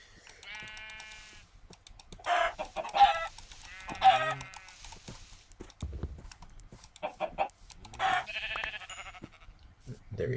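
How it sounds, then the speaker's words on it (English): Clucking chickens in a modded blocky sandbox game, several short squawky calls spread across the stretch with a person talking intermittently between them. "Oh, there's another chicken."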